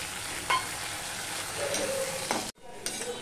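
Potatoes and onions sizzle and crackle in a hot pan as tomato puree is added and stirred, with a brief scrape and a sharp drop in the frying noise near the end, close and fairly quiet.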